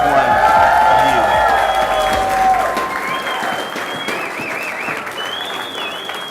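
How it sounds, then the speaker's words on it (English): A large crowd applauding at a company anniversary celebration in Seattle, loud sustained clapping with some cheering while a voice speaks over it and whistles ring out later. "A big round of applause for each one of you"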